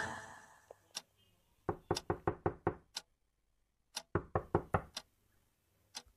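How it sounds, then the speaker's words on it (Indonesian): Knocking on the front door of a house: two bursts of rapid sharp raps, a pause between them, crisp and close in an otherwise quiet room. "terdengar suara orang yang mengetuk pintu depan rumahku ini"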